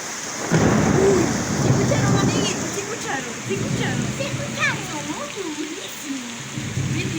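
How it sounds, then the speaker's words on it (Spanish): Thunder rolls low and heavy through a rainstorm during a power outage, a sustained rumble under steady rain, with voices faintly in the background. "se escuchan, amiguitos, se escuchan los relámpagos"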